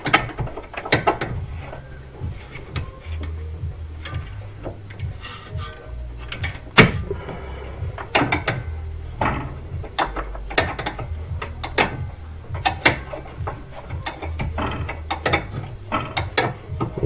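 A wrench ratchets a nut loose on a sway link of a GD Subaru Impreza WRX, giving a steady run of close metallic clicks with occasional sharper knocks and no talk.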